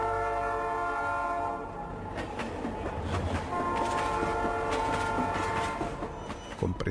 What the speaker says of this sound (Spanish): escuchó el ensordecedor silbato del implacable tren.